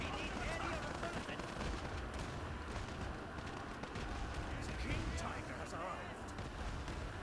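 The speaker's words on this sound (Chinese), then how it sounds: "卡秋莎在吹，这是2台的火力嘛？2台放到叠在一起，这加长版卡秋莎吗？" Katyusha rocket launcher salvos in the War Alert strategy game come through as a dense, continuous rumble of overlapping blasts and whooshes, mixed under steady battle noise and commentary.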